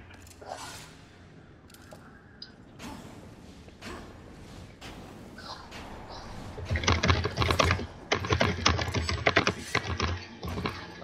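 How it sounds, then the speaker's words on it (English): Loud laptop keyboard being typed on, with sparse keystrokes at first that build into fast, dense clattering bursts heard close up. "Loud keyboard."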